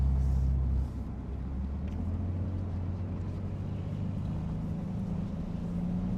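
A 2020 Aston Martin DBS Superleggera pulls away and drives, its engine a low, steady rumble heard from inside the cabin, louder for a moment at the start and then settling into an even drone.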